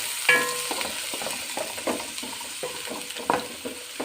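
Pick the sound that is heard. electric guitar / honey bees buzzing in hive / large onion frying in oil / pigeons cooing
large onion frying in oil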